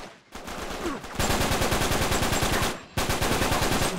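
Rapid, loud automatic gunfire in Uncharted 3, a dense rattling burst that runs for a second, pauses briefly, then resumes steady and close.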